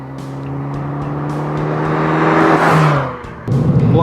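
A 2012 Fiat 500 Abarth drives on a Colorado road, its engine droning and building as it accelerates, then a sharp drop and surge like a gear change, loud and close.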